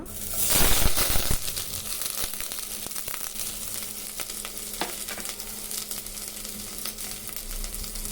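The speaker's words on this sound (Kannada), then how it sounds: "ಕ್ಯಾರೆಟ್ನ ಅದರಲ್ಲಿ ಬೇಯಿಸ್ಕೊಂಡು ಫ್ರೈ ಮಾಡ್ಕೊಳ್ಳೋಣ ಒಂದು ಸ್ವಲ್ಪ." Carrots drop into hot ghee with a loud initial burst of sizzling, which settles into a steady, close frying hiss with occasional clicks of stirring.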